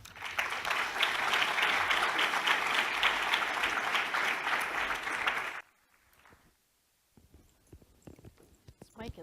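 A conference audience at a speaker series breaks into loud, dense applause welcoming a speaker, steady for about five seconds before it abruptly stops, followed by quiet stage shuffling and faint sounds.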